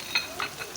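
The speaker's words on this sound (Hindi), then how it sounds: "ऐसे हम अपने कबाब फ्राई करते जाएंगे।" Chicken chapli kababs fry in a pan, giving a brief, soft sizzle with a few light clicks and stirring scrapes, close and quiet.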